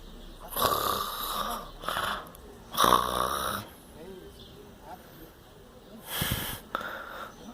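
A person snores in loud, rasping bursts with snorting breaths, several separate snores spaced by quieter breathing, close to the listener.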